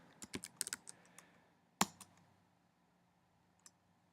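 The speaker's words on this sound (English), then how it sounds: "So if we type in homelessness," Keys on a computer keyboard clatter in a quick burst of taps for a search query, then a single sharp click and a couple of faint later taps in a quiet room.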